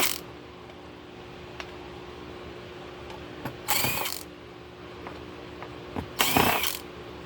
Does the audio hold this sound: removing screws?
yes